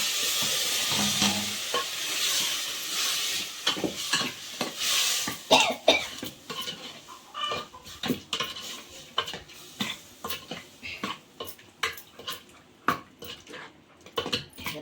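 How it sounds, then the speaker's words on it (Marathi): Malvani masala tempering for mango raita sizzling in a pan, a hiss under repeated sharp clinks and scrapes of a spoon stirring against the metal pan, close and irregular. "घालते फोडणी."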